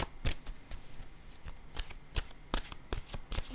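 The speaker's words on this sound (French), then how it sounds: "Je vais déposer une carte." Tarot cards being handled and laid down on a surface make a quick series of crisp flicks and soft slaps, close and irregular, with no talk.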